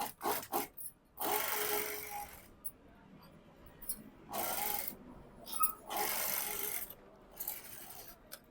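A sewing machine runs stitches along a blouse hook strip in bursts, rapid whirring runs broken by short pauses and small clicks of the fabric and machine being handled, close and fairly quiet.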